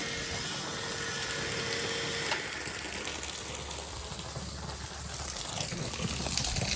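Water gushes steadily into an overflowing tank in a continuous hissing rush, with a low mechanical hum underneath and no voices.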